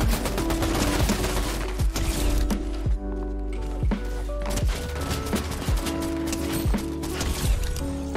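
Gunfire in a competitive video game rings out as a steady series of loud, close shots, evenly spaced at a fairly slow rate, with mechanical clicks between them and no voice over them.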